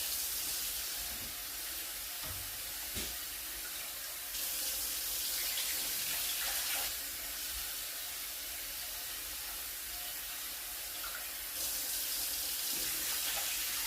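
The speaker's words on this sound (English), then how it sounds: "put some water in it, swish it around. And then pour the water" Tap water running into a pot while rice is rinsed, a steady close hiss and splash of flowing water with small shifts in intensity as the stream changes, no talk heard.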